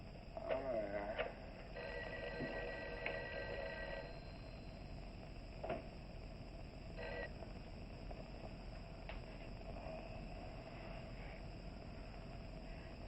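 An old-style telephone ringing unanswered in a 1959 film, several repeated rings at a moderate distance over a low hum, with brief voices at the start.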